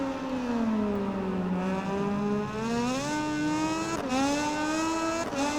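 Motorcycle engine in MotoGP 19 holding a high steady whine with harmonics bouncing against the rev limiter, with a few abrupt dips and a loud continuous drone throughout.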